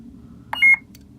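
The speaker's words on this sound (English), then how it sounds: "First beep is mute mode" A single short electronic beep from a lightsaber prop signalling mute mode, thin and high-pitched, sounds once over a quiet background.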